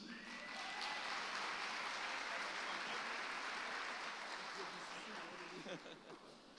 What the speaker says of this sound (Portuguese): Vamos dar um aplauso ao Senhor pela vida do apóstolo Edmilson.